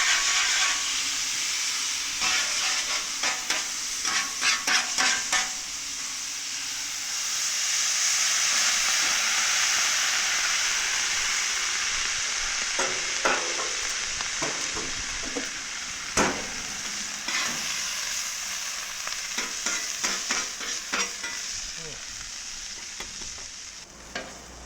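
Food, including scallops, sizzling steadily on a Cuisinart 360 XL griddle at dinner, a loud continuous hiss of frying with occasional scraping and clicking of a utensil over it, no talking.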